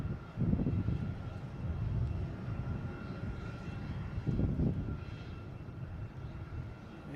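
An Aer Lingus A321neo airliner, arriving from Shannon, comes in to land at Boston Logan International Airport, its engines a steady, fairly distant low rumble that swells briefly twice.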